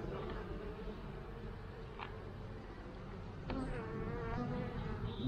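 Honeybees droning around an open hive while a colony is being split, a close, steady buzz with faint handling clicks, no speech.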